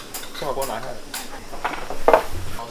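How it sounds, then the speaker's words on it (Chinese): Metal cooking pot lifted off a camping stove at an outdoor tent campsite in Iceland, with clanking and scraping clatter building to a louder knock near the end, under a steady background hiss. "先把锅拿下来"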